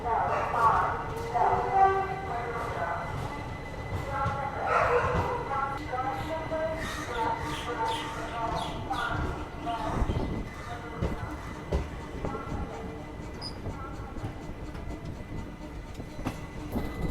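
The Jodhpur–Bangalore Express hauled by a diesel locomotive comes in with horn blasts and a steady rumbling roll of the coaches, heard from close by at a station with voices in the background.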